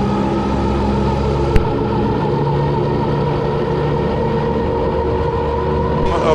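A gyrocopter engine on grass with the brake held runs loud and continuous at high RPM, a steady droning roar with one sharp click near the middle and a brief rise at the end.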